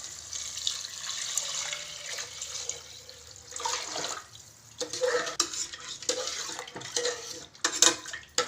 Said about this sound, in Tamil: இப்போ எடுத்து வச்ச அளவான தண்ணியை இதில் கலக்க போகிறேன்